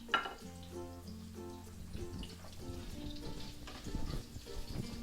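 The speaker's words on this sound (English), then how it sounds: "whilst the onion is sizzling" Onions sizzle in hot oil with a crackling, popping hiss, close up, over soft background music.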